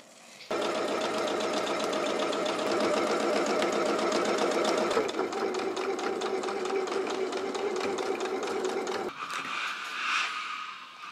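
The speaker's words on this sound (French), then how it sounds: "je pouvais aussi déjà coudre mes pinces sur l'avant et sur le dos" A sewing machine runs steadily, stitching darts on the front and back of a dress, a loud continuous whirring with rapid needle rhythm that shifts pitch briefly near the end.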